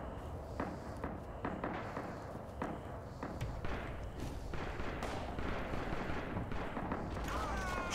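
Machine-gun fire in Red Orchestra 2's Heroes of the West mod, set during the Battle of the Bulge. Dense, continuous bursts of rapid shots mix with distant booming thuds, staying loud and chaotic throughout.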